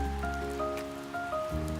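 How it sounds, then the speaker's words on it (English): Rain falling with gusting wind in the village video game HoloVillage, a steady dense wash of patter with sustained tonal game music layered over it, no voices. "It's raining like it's just rain, but the wind is like a goddamn thunderstorm."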